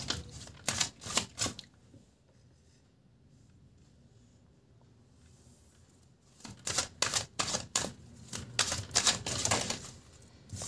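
Tarot cards are shuffled in quick crisp riffling bursts, a flurry at the start, a quiet pause, then a longer run of sharp flicking snaps, fairly soft and close.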